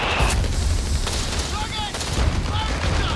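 Artillery and gunfire from a Company of Heroes match, a dense rumbling barrage of booms and shots with low thuds running continuously, some brief whistling tones above, steady and loud throughout.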